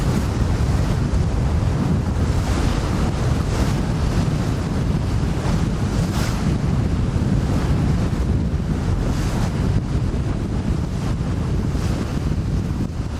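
Wind and waves rush steadily aboard a Nordhavn 56 out sailing in a good breeze, a loud, continuous wash of wind buffeting and surf with no voices.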